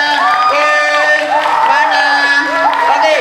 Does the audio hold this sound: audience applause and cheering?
yes